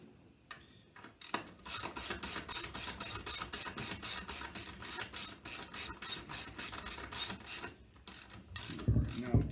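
A ratchet wrench clicks rapidly while tightening a shock bolt on a 2019 Triumph Street Twin, a close, even run of pawl clicks in steady back-and-forth pulses lasting several seconds before stopping.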